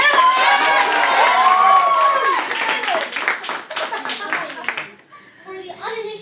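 At an improv comedy show, an audience claps loudly and cheers with shouted whoops and excited voices, the applause holding strong for several seconds before fading into scattered talk.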